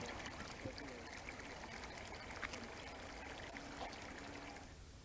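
Water washing mud off a manual rotary paddy weeder: a steady pouring, splashing stream that runs evenly at moderate level and fades slightly at the end.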